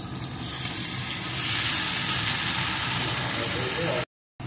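Steamed beans and cabbage tipped into a pan of frying potatoes, tomatoes and green chillies give a steady, broad sizzle and hiss up close, ending in a sudden brief silence.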